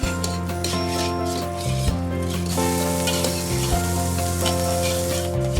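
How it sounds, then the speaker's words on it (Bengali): Chopped mushrooms fry in a pan with a steady, close sizzle and occasional scraping, under a sustained tonal musical background. "এরপর কাটা মাশরুমগুলো দিয়ে আরও ভাজতে থাকবো।"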